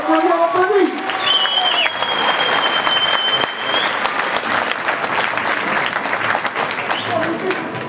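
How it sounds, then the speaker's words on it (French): An audience at a multi-boxing gala in Millau applauds steadily for several seconds, a dense wash of clapping with a brief announcer's voice at the start. "On applaudit ces jeunes demoiselles, on applaudit, on applaudit, on applaudit."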